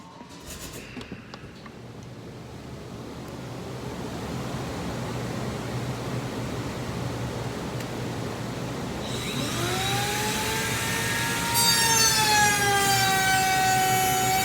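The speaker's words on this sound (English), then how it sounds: "I'm going to turn the dust collector on and we'll run this through" A dust collector runs with a steady, broadband roar from start to finish. Near the end a saw cuts through wood on top of it, adding rising whining tones and a louder, harsher edge.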